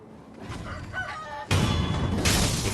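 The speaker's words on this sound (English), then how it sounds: "Oh, I forgot. Just 2 chickens." Rooster crowing from a pair of chickens in the video game Sekiro, one loud close crow over a low rumble that ends abruptly, followed by a bright noisy burst that fills the rest.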